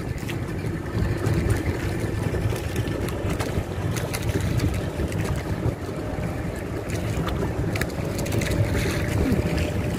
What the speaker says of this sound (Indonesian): Banyak sekali, ada ratusan tuh kapal-kapalnya.